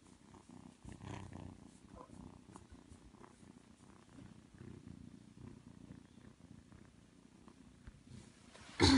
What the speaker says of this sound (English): I have the little purr machine behind me.